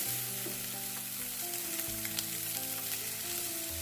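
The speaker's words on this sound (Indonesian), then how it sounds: "tinggal dimasukkan wortel dan baksonya, lalu ditumis lagi ya" Carrots and meatballs stir-fried in spice paste sizzle steadily in the pan, with scraping stirs and light utensil taps over a constant low hum.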